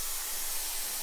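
A pressure cooker vents steam in a continuous, even hiss that fills the short moment without a break.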